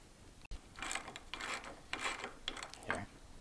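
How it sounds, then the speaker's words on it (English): A ratchet clicks in short bursts while a 7/16 bolt is tightened on a Retrax tonneau cover for a Tacoma truck bed, close and fairly quiet, several quick ratcheting strokes with brief pauses between. "thread the 7/16 bolt into it right here. And then cinch that up and tighten it into place."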